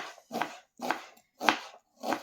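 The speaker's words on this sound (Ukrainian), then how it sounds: "Зараз покришимо цибульку." Onion chopped with a knife on a board for a potato and wild mushroom cream soup, four crisp, evenly spaced cuts, close and clear with no talking.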